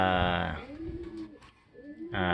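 A racing pigeon hen gives low, rolling coos in a loft, close and clear, with breathy throaty bursts at the start and end around a softer murmuring middle.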